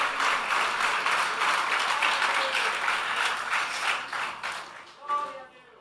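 A church congregation applauds in a full, even burst of clapping that fades near the end, followed by a brief voice as the noise dies down.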